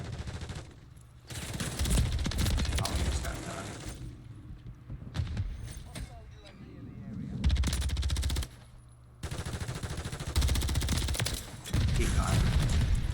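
Bursts of automatic gunfire and single shots in a Call of Duty match crackle in loud clusters separated by short lulls, fairly close, with no talking.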